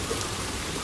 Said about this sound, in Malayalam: പുറത്ത് നല്ല മഴയാണോന്ന് വെച്ചാൽ കുറച്ച് മഴയുണ്ട്